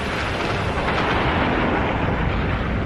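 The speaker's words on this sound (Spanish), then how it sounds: "La explosión es de tipo supernova." A supernova explosion sound effect for a documentary about the universe: a dense, loud, continuous rumbling roar that holds steady throughout with no voices.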